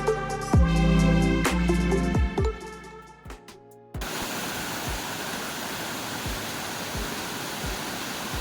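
Monsoon-swollen Kariyalakkund waterfall: a short burst of music cuts off abruptly, then a steady, loud rushing roar of falling water fills the rest.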